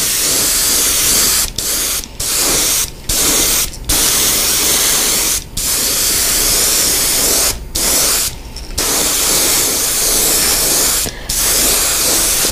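Spray gun or airbrush priming jerkbait fishing lures with a basic base coat, heard as a steady close hiss in long bursts broken by several short pauses.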